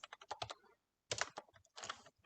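Keys clatter on a computer keyboard in three close bursts of rapid typing separated by short silences.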